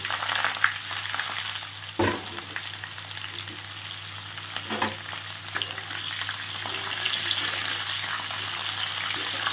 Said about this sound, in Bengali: তাই একে একে দিয়ে দিলাম সব সবজিগুলো।